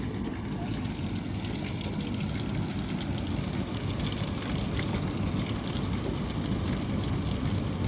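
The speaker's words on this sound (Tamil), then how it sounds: "மழை தான் இருக்குது" Rain falls steadily outdoors during cooking for a communal meal for fifty people, producing a constant dense patter-like hiss of moderate loudness that continues unbroken throughout.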